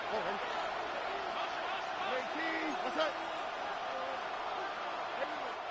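A Buffalo football stadium crowd roars as a continuous, distant wash of noise before a third down, while a commentator talks over it and scattered shouts rise briefly from the din.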